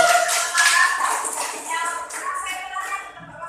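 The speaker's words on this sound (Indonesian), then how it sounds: "tepuk tangan untuk Pak Wahyu." An indoor audience at a school gathering claps, a dense patter of hands that fades gradually over a few seconds, with voices murmuring underneath.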